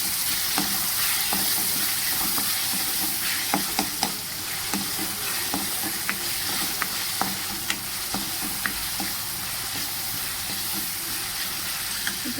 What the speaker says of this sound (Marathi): हे थोडंसं शिजवून घ्यायचं चांगला गोल्डन असा कांदा होईपर्यंत ह्याला तेलामध्ये परतून घ्यायचा